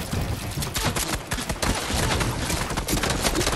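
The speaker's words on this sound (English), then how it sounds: "Jake, reload that drum gun, Jay." A drum gun in Fortnite fires rapid sustained bursts, a dense, loud stream of overlapping shots with a brief dip before the rattle resumes, heard alone without talk.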